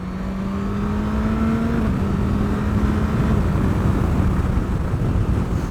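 A 2022 Suzuki GSX-S1000GT motorcycle pulls away without the clutch, its engine note holding a steady drone that drops slightly as it moves off, with heavy wind rush over the microphone throughout.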